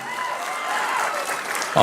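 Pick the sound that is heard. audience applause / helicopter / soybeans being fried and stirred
audience applause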